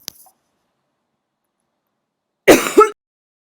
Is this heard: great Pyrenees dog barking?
no